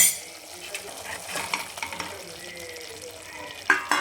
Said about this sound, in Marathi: तर हे पूर्ण अंडे टाकून आपण मिक्स करून घेऊ पूर्ण सगळ्या मसाल्यामध्ये